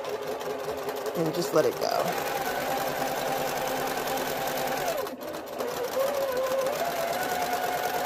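A sewing machine hums continuously while stitching quilt fabric pieces, a close, steady motorized whir with a brief pause, as someone speaks over it.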